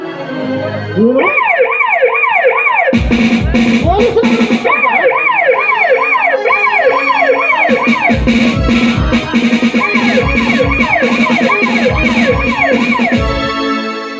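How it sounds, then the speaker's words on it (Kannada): A police jeep siren from a stage drama wails in rapid repeating cycles as the jeep arrives at a house. It starts after a short lead-in, pauses briefly, then resumes loud and close until near the end. "ಅಪ್ಪ ಅಪ್ಪ ಪೊಲೀಸ್ ಜೀಪ್ ಬಂದಿದೆಯಪ್ಪ ಇನ್ಸ್ಪೆಕ್ಟರ್ ಮನೆಗೆ ಬರ್ತಾ ಇದ್ದಾರೆ"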